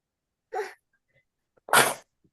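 Two sharp sneezes, a small stifled one followed a second later by a louder, fuller burst, close and otherwise quiet.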